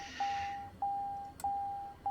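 Cockpit alarm in a TBM aircraft in Microsoft Flight Simulator 2020: a steady pure-tone beep repeating about every 0.6 seconds, each tone sustained and loud, with one brief click between beeps.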